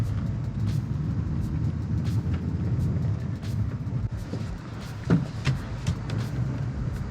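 A 2024 Toyota Tundra 1794 Edition pickup grinds steadily up an off-road hill, its engine a constant low rumble beneath scattered bumps and clunks from the chassis, with one louder knock partway through.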